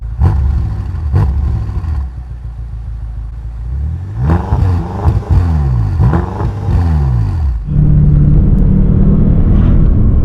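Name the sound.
BMW M5 engine revving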